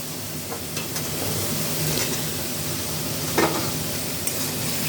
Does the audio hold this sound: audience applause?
no